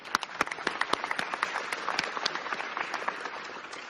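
Audience applause at a transit agency's State of the Agency address, a dense wash of many hands clapping with sharp individual claps standing out, steady and moderately close throughout.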